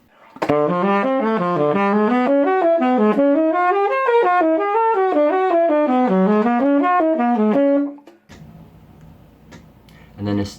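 Guitar runs through linked pentatonic scale shapes that shift chromatically, a steady stream of clear plucked notes climbing and falling in waves for about eight seconds, then a quieter hum with a faint knock at the end.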